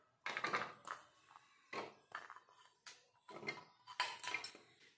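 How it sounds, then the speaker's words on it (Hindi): A kitchen chopper cuts peeled bottle gourd, onion and garlic cloves in a series of about eight short, sharp rattling bursts of blade and plastic clatter, loud and close, with brief pauses between pulls. "सबको डाल करके इसमें चॉपर में काट लेंगे"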